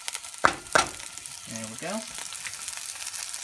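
Garlic drops into hot oil in a frying pan and begins to sizzle softly, following a couple of sharp clinks, while a voice speaks briefly at the start.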